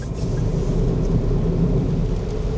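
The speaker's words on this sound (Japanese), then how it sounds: "ロードノイズもまあまあいい感じ" Steady low rumble of tyres on the road inside a moving 2025 Daihatsu Move (LA850S) kei car, a continuous muffled drone with no talking.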